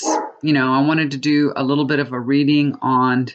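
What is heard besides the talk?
dog barking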